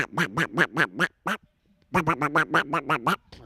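A duck quack sound effect from a cricket broadcast plays as a rapid string of loud, nasal quacks, a brief pause, then another quick burst of quacks, heard alone and up close.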